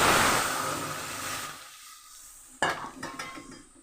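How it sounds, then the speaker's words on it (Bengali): Boiled dal tipped into a hot pan of lightly fried ingredients: a loud, steady sizzle fades, then a sharp splash brings a fresh burst of crackling and stirring clatter. "এবার সিদ্ধ করা ডালটাকে আমি এর মধ্যে ঢেলে"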